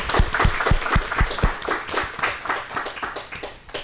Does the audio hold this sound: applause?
yes